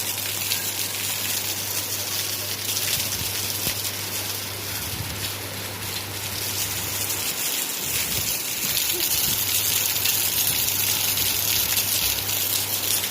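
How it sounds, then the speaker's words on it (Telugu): Rainwater gushing steadily from a pipe above a house during a downpour, a loud continuous rushing stream over falling rain with a low steady hum in the background. "పైన పైప్లో నుంచి వాటర్ ఎలా వస్తున్నాయో"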